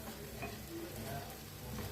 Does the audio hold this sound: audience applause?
no